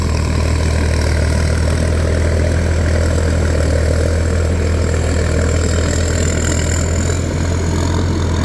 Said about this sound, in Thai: ใช้เป็นเครื่องยนต์ของ ฮีโน่ครับ